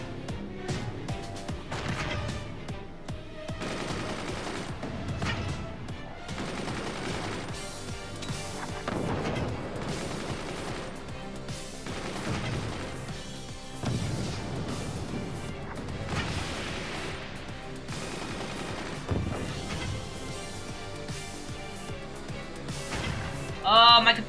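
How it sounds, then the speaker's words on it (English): Mortar and machine gun fire in the Forts video game form a dense barrage of repeated booming impacts and crashing explosions, heavy and continuous, with a player talking over the battle. "My recruit has got 10 mortars with your name on them."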